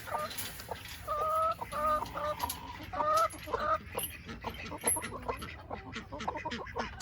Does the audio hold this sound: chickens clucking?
yes